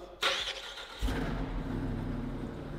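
A Lamborghini Urus SUV fires up with a sharp starter burst, then settles into a deep, loud, steady idle rumble close by, with no talking over it.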